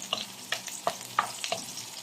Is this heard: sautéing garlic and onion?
yes